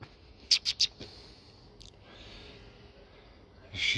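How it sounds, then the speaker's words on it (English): A dog sniffing on a walk: a few quick, close sniffs in a burst, then faint rustling, with another soft sniff at the end. "She's doing the sniff."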